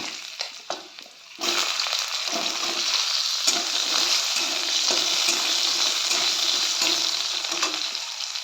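Chopped potato tipped into a hot pan for a pui greens dish with lentil bori, a sharp sizzle bursting up after a few light clinks and then frying steadily with occasional stirring scrapes.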